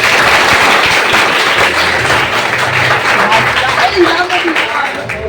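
Continuous crowd applause fills the whole stretch, dense and steady, with a murmur of voices underneath.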